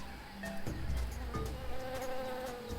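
Insect buzzing, bees in a jungle in the Tales of Monkey Island video game, a steady droning hum with a few brief tonal game sounds over it, no talking.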